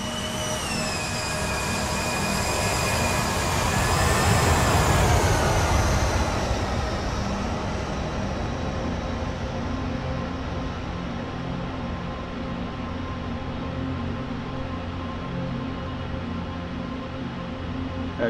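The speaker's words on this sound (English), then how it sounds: "HK Express is ready and going for takeoff now" An HK Express airliner in Microsoft Flight Simulator 2020 spools up for takeoff, a loud steady jet-engine roar with whining tones that swells to a peak midway, then eases into a sustained drone.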